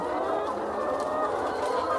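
Layer hens in a poultry farm house cluck in a busy, steady chorus, many birds overlapping at close range without talk.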